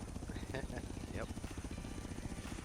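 A helicopter carrying a Jeep in Forza Horizon 3 gives a steady pulsing rotor thump throughout, loud and close, while voices speak briefly over it.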